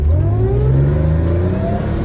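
An Audi S6 engine revs and accelerates loudly and up close, with an automatic transmission; the engine note climbs steadily in pitch over about two seconds, with no one speaking.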